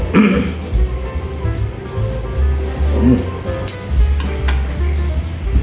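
Water buffalo brain sautéing in a pan gives a loud, close, continuous sizzle and crackle, with stirring scrapes and a low background hum.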